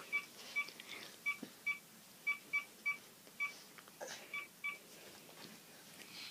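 A house phone being dialed, giving a series of about a dozen short, clear DTMF beeps in an uneven rhythm, each tone distinct against a quiet room.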